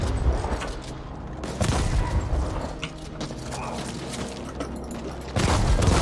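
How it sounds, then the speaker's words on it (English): Shotgun blasts in the sci-fi shooter The Ascent, several heavy, loud, close shots going off in bursts amid mechanical game noise, with no talking. "Let's switch to our shotgun for a second."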